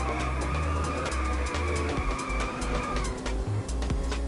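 A futuristic arcade car in Inertial Drift drifts through a corner, its engine droning loudly with gear changes while a long, continuous tire squeal rises over it.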